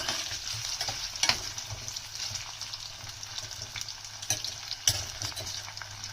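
Paneer lightly frying in a pan over a medium flame, a steady close sizzle with occasional stirring scrapes and a couple of sharper clatters, no talking.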